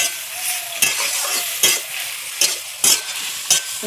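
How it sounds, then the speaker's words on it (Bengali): Ghugni with snail meat, salt and turmeric fries in a pan over a village clay stove, giving a close sizzle with repeated sharp scraping strokes of a stirring utensil at irregular intervals. "ভাজা হচ্ছে এখন ঘুগনি।"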